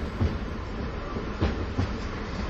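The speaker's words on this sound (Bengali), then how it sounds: "কিছু সময় পরেই একটা এক্সপ্রেস ট্রেন এসে থামে" An express train pulling into a station in an animated cartoon, a steady low rumble of rolling wagons with a few clickety-clack wheel knocks, moderately loud and with no voices.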